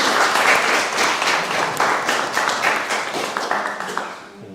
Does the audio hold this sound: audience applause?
yes